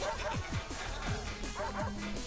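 A voice imitates the barking of a Chain Chomp from a Mario platform game, repeating rapid doglike yips and woofs in a quick rhythmic series, close and loud over game sounds.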